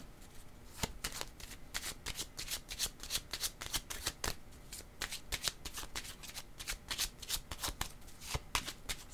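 Tarot cards being riffled and shuffled by hand in a steady run of quick, crisp flutters close up, repeating throughout with no talking.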